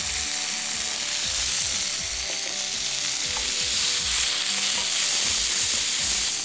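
Peas and potatoes sizzle steadily in hot oil for Bengali shukto, with scraping, tossing stirs and occasional utensil clicks over a continuous frying hiss, close and fairly loud, with no talking.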